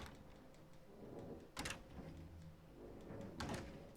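Door opened and closed in the video game Hitman 2 in Marrakesh, two sharp knocks or latch clacks about two seconds apart over a quiet ambient background.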